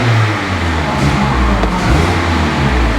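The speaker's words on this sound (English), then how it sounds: "I'll give it a little rev." 2021 Mazda MX-5 GS-P with a 2-liter engine revving up close, a loud continuous engine roar rising and falling briefly over three seconds, with no talk.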